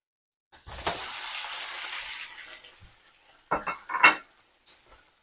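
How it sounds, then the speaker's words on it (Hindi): Chicken hits browned onions in a hot pot with a sharp burst of hissing sizzle that fades over a couple of seconds, followed by several close metallic clanks of a spoon stirring against the pot. "देखिए इसे हम फ्राई कर रहे हैं।"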